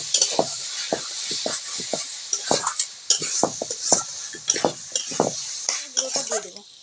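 Spice masala being stirred and cooked in a pan, with a utensil scraping and clinking against the metal in quick, irregular strokes over a steady soft sizzle, close and fairly loud.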